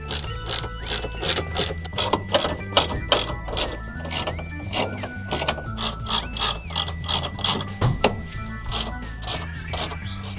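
A ratchet removes bolts from the bumper filler lip of an EF Civic, a rapid steady clicking that runs nonstop under a faint background hum, close and loud with no talk.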